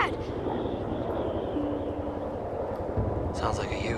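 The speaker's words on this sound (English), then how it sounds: "Sounds like a Huey." A distant helicopter, a Bell UH-1 Huey, drones faintly and steadily in the background of an Alaskan avalanche rescue scene, with a low continuous rumble and a brief tonal whine partway through.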